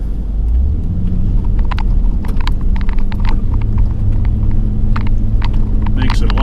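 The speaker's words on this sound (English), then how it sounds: "cleaning up with the truck is so much quicker than the tractor because I can angle the blade" A pickup truck with an angled plow blade clears snow, its steady engine rumble and scraping rolling on continuously up close, with scattered knocks and clatter over the drone.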